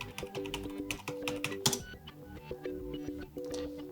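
Keys tapped on a Lenovo LOQ 15IRH8 laptop keyboard while entering a new PIN, a quick run of close, light plastic clicks under steady electronic background music.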